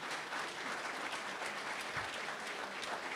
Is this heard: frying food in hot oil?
no